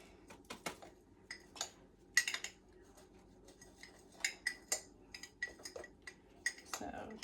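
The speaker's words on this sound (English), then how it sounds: "you're going to mix up the dry ingredients really good so they're not clumpy" A spoon mixing dry overnight oats ingredients in a bowl, quiet irregular clinks and scrapes of metal against the dish at close range, with soft rustling between strikes and no voices.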